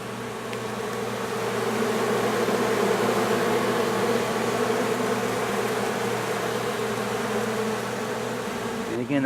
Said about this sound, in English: I think the bees are liking it.